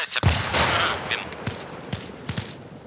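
Gunfire in Arma Reforger: a loud close shot, then a string of sharp single shots at irregular intervals, with a soft voice under them.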